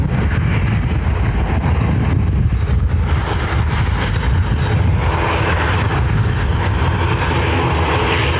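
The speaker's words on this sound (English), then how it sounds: "Sun Express is heading out again." A Sun Express airliner departing Dublin Airport, a loud, steady, muffled engine roar with wind buffeting the microphone, continuous for the whole stretch with no talk.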